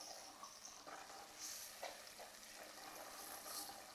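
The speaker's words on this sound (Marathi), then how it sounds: "बघा अशी मस्त खमंग फोडणी तयार व्हायला पाहिजे हा" Hot oil tempering with Kolhapuri chili spice mix and turmeric gives a soft, steady sizzle and crackle, faint and continuous with a few brighter pops.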